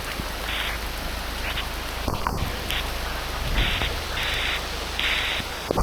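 Heavy rain pours down steadily and loudly, drumming on nearby surfaces with scattered sharper drips and splashes throughout.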